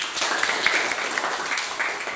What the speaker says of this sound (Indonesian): tepuk tangan untuk kelompok Esther.